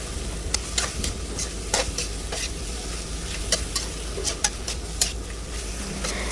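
Holy basil stir-fries with immature chicken egg yolks and dried chilies in a hot pan. A constant sizzle runs under repeated spatula scrapes and clinks, with no talking.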